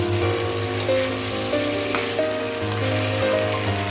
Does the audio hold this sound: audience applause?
no